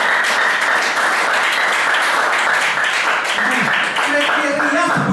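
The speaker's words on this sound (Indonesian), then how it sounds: "Tepuk tangan ya" Dense, steady applause from a seated audience at a leadership talk fills the whole stretch, with voices mixed in beneath it and a few tonal sounds near the end.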